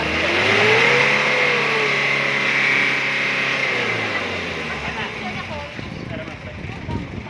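Car engine revving up to about 4,000 RPM after an anti-smoke oil additive treatment, a close, loud rising and sustained rev that settles down, with people talking nearby.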